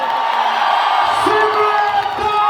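Audience at a Delhi NCR promotion event for the movie Vanvaas at GL Bajaj cheering and whooping for Utkarsh Sharma, a loud, dense crowd roar with scattered shouts throughout.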